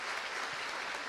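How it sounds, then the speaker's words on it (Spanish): Brief burst of steady applause from an audience at a talk, faint and diffuse, with no talking. "Un fuerte aplauso para don Marcelo."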